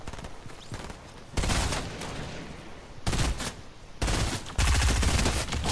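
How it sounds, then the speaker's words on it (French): Submachine gun fire in Fortnite comes as loud, rapid automatic bursts, several separate volleys broken by short pauses and ending in a long, heavy burst. "Bon là, pistolet mitrailleur les gars, normalement."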